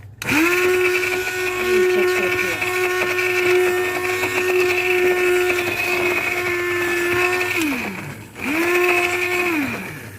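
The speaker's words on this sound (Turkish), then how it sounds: "Tekrardan blenderla" A blender whirs loudly through a milky dessert mixture with lemon peel, a steady high whine that winds down, stops briefly, then starts up again close by.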